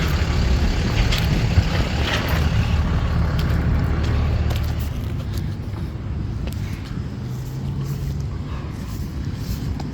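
A car hauler truck rolls steadily down the road, its engine and tire noise forming a continuous low rumble that holds roughly level throughout without pauses.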